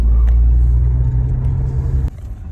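A car is parked: a close, loud low engine rumble holds steady, then cuts off sharply near the end, leaving quieter fading noise behind with no talk.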